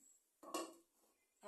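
A metal vessel set down as a lid over a pan on a home stove, a single short clattering clink of dishware, fairly close and alone without talk.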